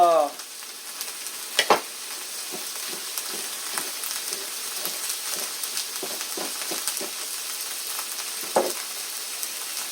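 Onions fry in a pan for a beef and onion dish, a continuous close sizzle with scattered pops and stirring taps over ten seconds, and a brief voice near the start.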